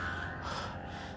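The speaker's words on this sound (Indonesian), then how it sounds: "Saya ngos-ngosan" A person pants out of breath after running down the stairs in fright, one heavy, close, breathy gasp filling the short moment against a faint background hum.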